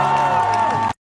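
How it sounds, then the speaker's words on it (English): A crowd lets out one loud, sustained boo lasting nearly a second, close and dense, then it cuts off abruptly into silence. "Just like one really loud boo."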